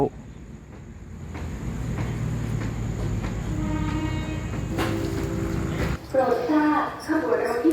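A Thai train rumbles past close by at Wongwian Yai station in early morning, steady low clatter and rolling noise for several seconds, then fades as other sounds and voices take over near the end.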